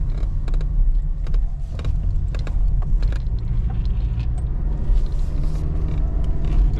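A 2016 Jeep Compass Sport 2WD with the 2.0 engine drives along steadily, its low road rumble and engine drone constant, with faint creaks and mechanical clicks scattered over the top.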